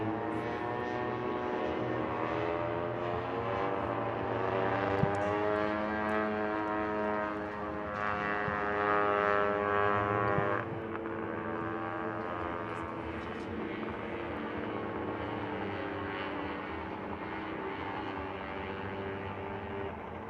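A droning roar from fan-cooled vintage snowmobile engines racing past at a snowmobile race in Eagle River, with a rising and falling whine, sustained and loud throughout with no talk.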